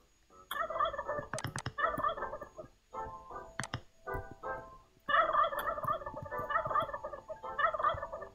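Turkeys in the Roblox game Wacky Wizards gobble repeatedly in bursts, close and clear, with a few sharp clicks mixed in.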